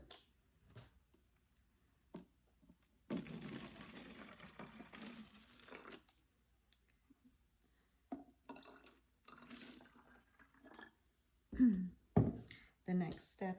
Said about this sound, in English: fill the container about a quarter filled with water